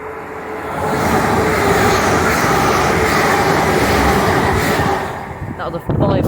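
A five-coach train passes at Starcross, a loud, steady rumble and rush of wheels on rails that builds quickly, holds for several seconds, then fades as the train moves away.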